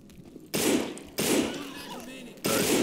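Gunfire in the zombie shooter game No More Room in Hell: three loud, close blasts, each a sudden burst followed by a decaying noisy tail, spaced about a second apart, with faint game ambience between.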